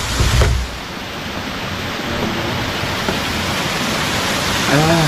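Rain falling during a foggy mountain hike on Gunung Butik near Sukamakmur, Bogor: a loud, steady wash of hiss, with a brief thump at the start and a voice speaking near the end.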